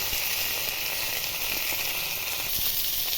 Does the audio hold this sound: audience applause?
no